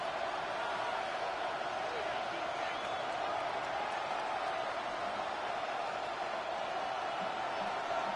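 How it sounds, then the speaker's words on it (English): A steady roar from a packed stadium crowd during a simulated Packers versus Steelers football game in Madden 26, a continuous dense wash of voices with no clear breaks. "they're going to hear it from this crowd"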